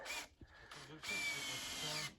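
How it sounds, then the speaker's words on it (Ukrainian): Power screwdriver driving screws through OSB sheathing onto the wall frame of a small guard hut under construction, a few loud whirring bursts with short gaps between, alongside people talking on an outdoor building site. "Зараз накручують хлопці ОСБ."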